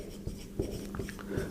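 Chalk or marker scratches and taps on a board during a Class 12 physics lecture, a few short, faint strokes in a quiet room.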